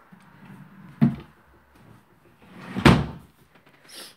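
Drawers in a shared flat's changing room are pulled open and pushed shut, giving two distinct wooden knocks about two seconds apart, the second louder, with a faint slide at the end; no one speaks.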